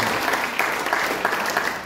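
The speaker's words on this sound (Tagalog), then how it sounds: "Lahat ng mananatili, pumalakpak ng malakas sa Panginoon." A church congregation claps loudly and steadily in praise during a worship service, a dense wash of many hands ringing through the room with no voices over it.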